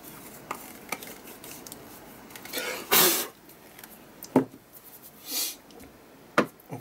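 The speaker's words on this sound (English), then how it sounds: "let's get some of these lids back on" Lids being pressed back onto acrylic paint containers give a scattering of sharp plastic clicks and snaps, with a couple of louder bursts over a quiet room.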